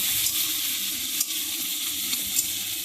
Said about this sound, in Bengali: উচ্ছে আলুটা বসিয়ে দিয়েছি, উচ্ছে আলুটা ভাজা হচ্ছে